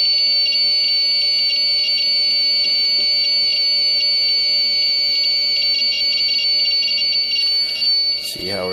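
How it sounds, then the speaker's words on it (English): An ultracapacitor-powered UPS low-battery alarm buzzer sounds a steady, shrill continuous tone for about eight seconds, close and loud, ending with a brief clatter. "We got the buzzer going off, but we don't have the fault light on yet."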